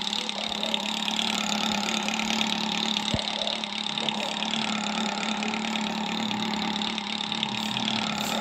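A parked motorcycle engine idling at six in the morning, a loud, steady, continuous hum with one brief knock partway through and no talking over it.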